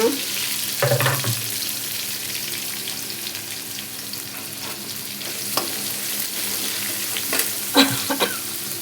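Crushed garlic and onions fry in a pan for sweet potato egg rice, with a steady close sizzle, a few spoon scrapes and knocks from stirring, and a brief louder burst as ingredients go in.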